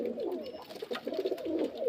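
Giribaz pigeons from Murshidabad coo close by in a steady run of soft, throaty calls, several birds overlapping with no talk.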